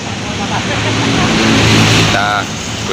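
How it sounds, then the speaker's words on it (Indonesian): An Agramas intercity bus pulls in nearby with a loud, broad engine roar and road noise that swells and then eases, while a voice talks over it. "itu masuk lagi bus Agramas"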